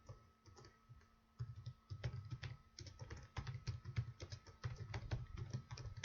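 A name is typed on a computer keyboard in quick irregular bursts of clicky keystrokes, close and quiet, with brief pauses between groups of keys.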